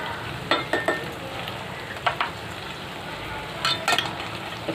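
Spices and cluster beans sauté in a pan for pulao under a constant soft sizzle, with several sharp clinks and scrapes of a spoon against the pan as they are stirred.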